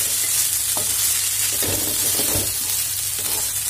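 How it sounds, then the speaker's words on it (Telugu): Turmeric and salt fry in a pan with a loud, constant sizzle and hiss close up, broken by repeated scraping stirs of the spoon. "కొంచెం పసుపు తగినంతగా, కొంచెం సాల్ట్ వేసుకొని ఫ్రై చేసుకోవాలండి."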